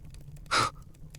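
A single sharp gasp of someone waking from a nightmare in a dark fantasy audiobook, one loud breathy intake standing alone against quiet background.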